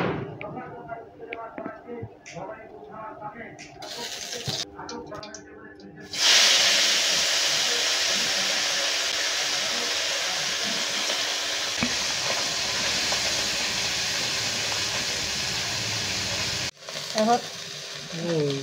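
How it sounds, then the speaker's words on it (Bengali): Small fish coated in salt and turmeric drop into hot oil in a wok and burst into a loud, steady sizzling hiss that continues for about twelve seconds. A voice and kitchen clatter come before it. "এখন গুঁড়া মাছগুলো লবণ হলুদ মাখাইয়ে এখন একটু ভেজে নেব।"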